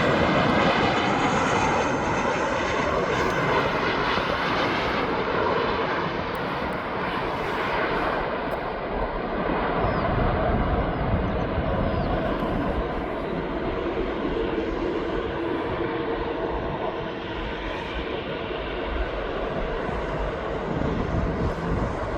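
A Jet2 holiday-liveried passenger jet taxiing at East Midlands Airport produces a loud, sustained engine roar and whine, steady and close throughout with no speech.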